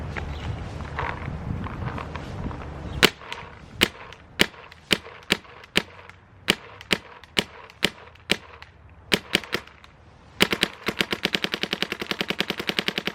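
Shocker Era paintball marker firing outdoors, a run of sharp loud single pops spaced about half a second apart, then a fast rapid-fire burst of quick cracks at the end.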